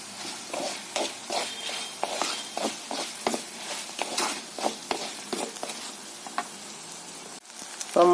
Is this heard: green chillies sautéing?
yes